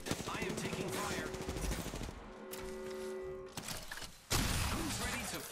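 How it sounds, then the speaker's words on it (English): Rapid automatic gunfire in Apex Legends, loud bursts of rattling shots broken by a short lull with a droning tone, then heavy firing resumes near the end. "I am taking fire."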